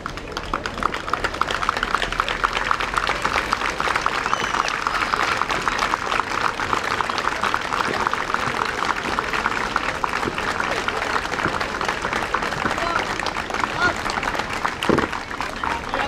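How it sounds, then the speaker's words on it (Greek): A crowd at a protest rally in a central city square applauds the army, steady clapping filling the whole stretch with a dense crowd murmur and a few sharper taps. "Το συγκεντρωμένο πλήθος χειροκρότησε το στρατό"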